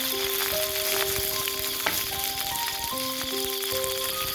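Green chilies, whole garlic cloves, chopped onion and cumin seeds crackle in hot mustard oil in a village kitchen, a dense, loud continuous sizzle with scattered pops and faint steady tones in the background, no voices.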